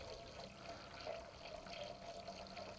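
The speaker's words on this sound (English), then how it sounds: "we're gonna add some filtered water to the canner" Filtered water pours faintly into a canner, a soft continuous splashing and trickle at low level with no talk.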